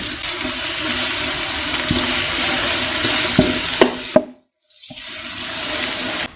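Crushed garlic, six to seven cloves, dropped into hot oil for Yemeni chicken mandi, giving a steady loud sizzle that briefly cuts out then resumes with clinks of utensils.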